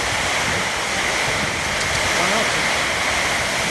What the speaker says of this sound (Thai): ดูครับลูกเห็บตกเลยครับ